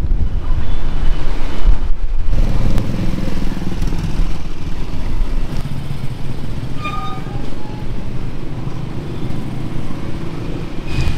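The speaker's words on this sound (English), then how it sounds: "It's windy, so." Gusty wind buffets the microphone on a street in Dumaguete, Philippines, a steady loud roar of rumbling noise that fills the whole stretch without pause, with no talking.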